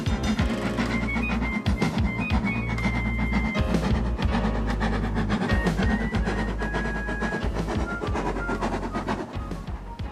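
A 1925-built steam locomotive rumbles steadily past on a railway embankment, close and loud, with rhythmic clattering over the rails and a continuous heavy mechanical roar throughout.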